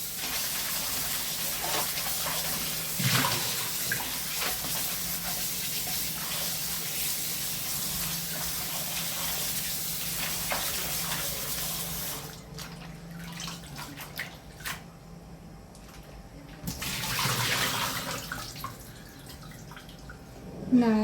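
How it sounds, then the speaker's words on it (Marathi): Colocasia leaves washed under a running kitchen tap, a steady hiss of flowing water with splashing and dripping, brief pauses and bursts as the flow changes, close by, with a voice talking over parts of it. "नळाखाली स्वच्छ धुवून घेतले"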